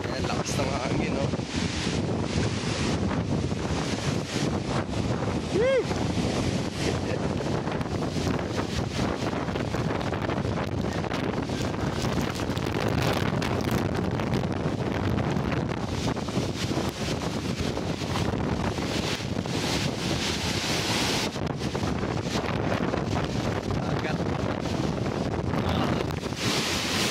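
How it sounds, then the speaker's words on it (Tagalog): Strong gusting wind by the sea buffets the microphone throughout, a continuous roaring wash with surf in the mix, and a voice speaks briefly over it. "Ayan, lakas ng hangin, no?"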